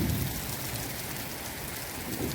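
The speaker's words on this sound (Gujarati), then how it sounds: "બરોબર જામી ગયો હવે બગસરામાં વરસાદ." Heavy rain pouring steadily on surfaces, a loud, dense, unbroken hiss with low rumbling swells at the start and end.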